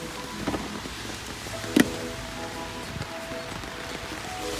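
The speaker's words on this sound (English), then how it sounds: "Fucking rain." Rain falls steadily as a constant broadband hiss throughout, outdoors during cold weather while work is being done on a Ford Escort, with a single sharp knock partway through.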